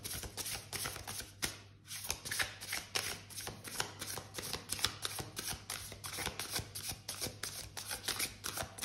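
Tarot cards being shuffled in continuous rapid riffles and rustles, close and steady throughout with one brief pause near the start, no talk over them.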